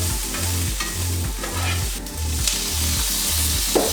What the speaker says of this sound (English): I need to cook that until the cabbage is wilted.